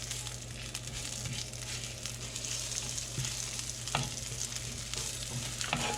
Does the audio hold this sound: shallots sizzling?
yes